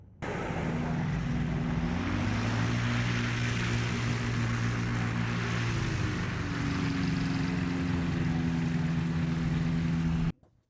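A Global Supertanker, a modified Boeing 747 firefighting aircraft, roars past with a loud, steady engine drone. The pitch shifts slowly as it passes, then the sound cuts off abruptly.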